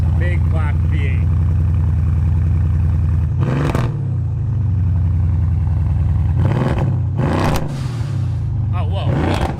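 A matte gray, Renntech-tuned Mercedes E63 AMG wagon V8 idles with a deep burble, then blips its revs loudly several times up close. The sharp rises come in short bursts, and voices talk over the engine.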